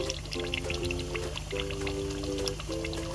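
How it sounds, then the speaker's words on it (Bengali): Ghee is poured into a pot of wedding-style beef curry, a short soft liquid pour with faint sizzling and clinks in a quiet kitchen. "এখন আমি দিয়ে দিব ঘি।"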